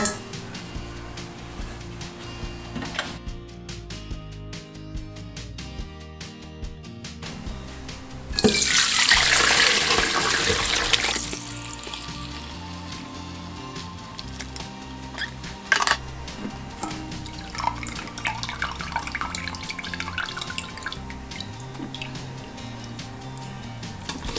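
Homemade bone broth from an Instant Pot poured through a strainer into a container, a steady liquid splash and trickle that swells into a louder gush midway, then settles into dripping and clinks.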